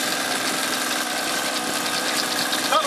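A 49cc Eggmotor small engine on its first test run, running steadily with a constant buzzing drone and vibration, close and loud without pause.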